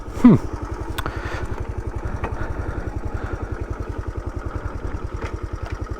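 A 1984 Honda Trail 110 motorcycle engine runs with a steady, rapid low putter at close range, a brief rising rev and clunk near the start as gears shift, then settles into an even idle-like chug with faint clatter.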